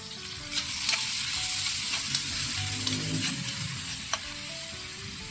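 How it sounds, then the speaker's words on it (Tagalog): Shrimp paste, chili, garlic and onion sauté in a hot pan with a loud, steady sizzle, broken by occasional scrapes and taps of the stirring utensil. "Panggigisa tayo ng bagong, sili, saka bawang, saka sibuyas."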